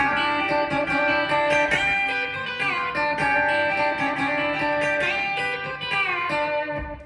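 Twangy B-bender guitar chords ring out, including a D7th, with notes smoothly bending up and back down, played alone at a steady, fluid pace.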